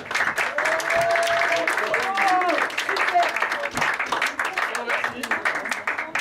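An audience claps loudly and continuously at an improv theatre festival in Paris, dense close applause with some voices and calls mixed in throughout.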